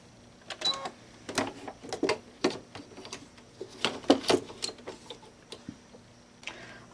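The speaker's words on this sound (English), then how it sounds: "I am going to load the machine with the hoop, and it's going to stitch the outline for placing the fabric" An embroidery machine stitches a fabric-placement outline on a hooped project for an in-the-hoop luggage handle wrap, giving quiet irregular clicking and ticking bursts that come and go, with no voices.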